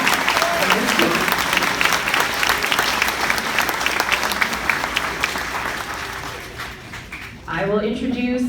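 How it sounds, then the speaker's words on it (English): Audience at a sixth grade graduation ceremony applauds steadily in a dense, sustained wash of clapping, with cheering and a voice emerging near the end as the clapping fades. "give you a round of applause for helping us"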